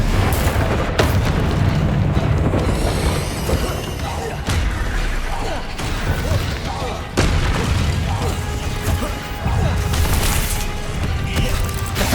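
Booming magical blast from the Confringo spell in the game Hogwarts Legacy, loud, dense and sustained, with several heavy impacts layered over continuous battle noise and a voice talking over it.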